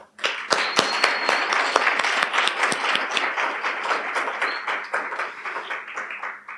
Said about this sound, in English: let's welcome you with a nice big round of applause